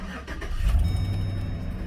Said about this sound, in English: That's an exhaust leak. Did you hear that?